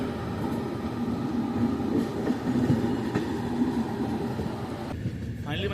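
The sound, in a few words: Shaktipunj Express train departing Jabalpur Junction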